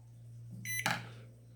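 A microwave oven under repair for not heating is switched on, giving a short beep and a loud buzzing hum that rises then fades, over a steady low mains drone.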